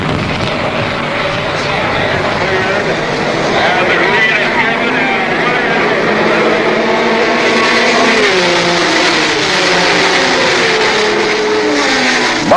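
1970 Sebring 12-hour endurance race start on the 5.2-mile road course, with 68 cars including Ferraris, Porsches and Alfa Romeos roaring and revving together in a loud, sustained wash of engine noise under a commentator's voice.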